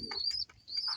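Pigeons at a loft make soft bird calls, a few short chirpy bursts with brief fluttering close by and a small pause midway, and no voices.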